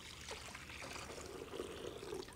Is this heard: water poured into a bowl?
yes